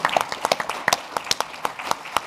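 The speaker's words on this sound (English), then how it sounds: "we really should give an applause to the chamber for these things." A small audience at a county leaders' chamber of commerce event claps, sparse and uneven with distinct individual hand claps spaced out irregularly, fairly close.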